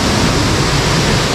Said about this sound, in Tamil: ஐ லவ் திஸ் ஃபால்ஸ், பியூட்டிஃபுல்லாக இருக்குது, வெரி நைஸ்